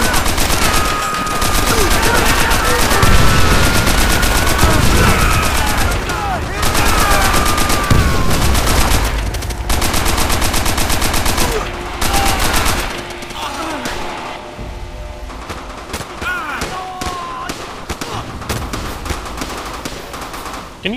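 Machine gun fire in the World War II shooter Call of Duty: World at War, loud sustained bursts with other gunfire and battle noise, pausing briefly and then resuming.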